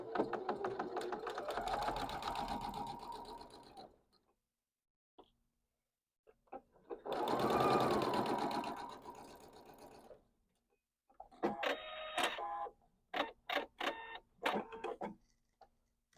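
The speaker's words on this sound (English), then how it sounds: "so I've sewn the two opposite sides" A sewing machine stitches quilting fabric in three bursts, the first two steady and continuous and the last broken into short runs of stitches. It is close and clear, with no talking.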